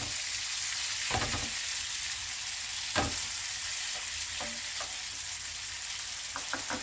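Cherries sauté in butter in a pan, giving a constant crackling sizzle broken by several sharp knocks and scrapes of stirring, close and moderately loud, without speech.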